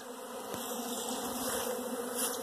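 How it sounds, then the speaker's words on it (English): Honey bees buzzing around hives in a bee yard, a steady close drone that holds evenly throughout with no voices. "Busy bees."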